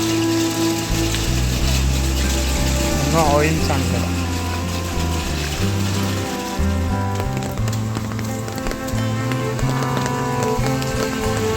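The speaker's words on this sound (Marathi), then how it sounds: "भरपूर पाऊस चालू आहे" Steady heavy rain hisses outdoors on MG Road in Mahad during the 2024 flood, beneath voices and a low engine-like hum, a constant wash of noise throughout.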